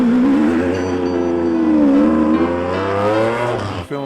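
A car engine roars steadily and loudly while driving, a sustained close-up drone with shifting pitch that eases briefly near the end.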